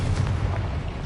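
A fire spell is cast in the video game Hogwarts Legacy, a brief, dense, roaring burst with a low rumbling body that stays loud throughout.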